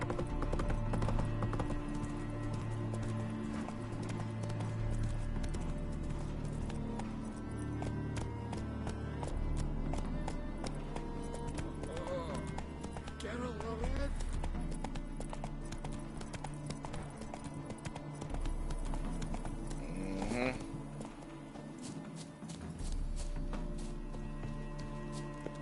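Hooves of Geralt's horse Roach clip-clop in a steady galloping rhythm throughout The Witcher 3, close and continuous over a dense bed of game music and ambience.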